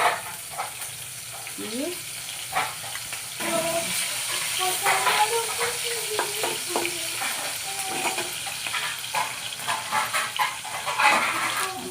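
Red chilies fry in hot oil with a steady sizzle, while a spoon scrapes and stirs the pan at intervals and someone speaks briefly in the background.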